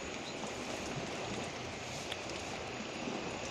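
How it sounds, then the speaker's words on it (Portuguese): Heavy rain falls steadily in Camaçari, Bahia during flooding, a dense continuous hiss of downpour that stays loud and even throughout, with a few sharper drop impacts near the middle and no voices. "Chuva, Camaçari."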